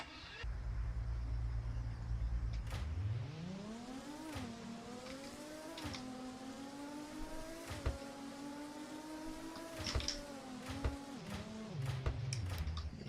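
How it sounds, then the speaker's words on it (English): V12 engine of a car in the Roblox game Car Dealership Tycoon, starting from a low idle, then revving and accelerating through rising and falling gear pitches with sharp shift clicks, loud and close. "This thing has a V12, not a W16, unfortunately. But yeah, let's just hear the sound."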